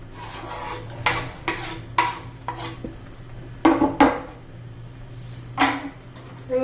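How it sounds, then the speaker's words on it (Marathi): Carrot halwa being stirred with jaggery in a pan, a spoon scraping and knocking against the metal in uneven strokes, with short clanks and rasping scrapes separated by quiet pauses. "व्यवस्थित मिक्स करून घेऊया"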